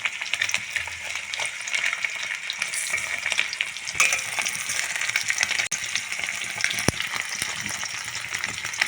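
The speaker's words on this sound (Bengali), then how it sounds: "কড়াইতে তেল গরম করতে দিয়েছি পনিরগুলো দিয়ে দেব পনিরগুলো হালকা করে ভেজে নেবো" Paneer pieces fry in hot oil in a wok with a steady, dense sizzle and crackle. The sound is loud and continuous throughout, with a few sharp clicks of stirring and no talking.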